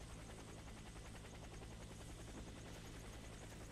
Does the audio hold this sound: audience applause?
no